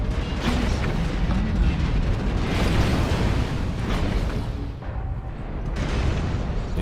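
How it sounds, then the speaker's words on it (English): Airstrike explosions in a mech combat video game, heavy continuous booming and rumbling blasts that stay loud throughout with a brief dip near the end, dense and close. "Airstrike"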